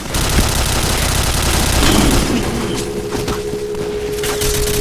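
Rapid, dense gunfire from a shooting video game, loud and continuous bursts of automatic fire filling the whole stretch with no pauses.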